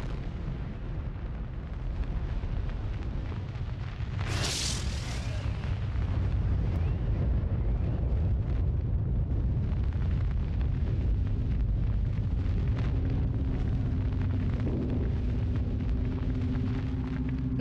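A nuclear bomb test explosion rolls out as a loud, sustained, deep rumbling roar with a brief hissing burst near the start, then a continuous heavy low thunder that never fades, with no voices.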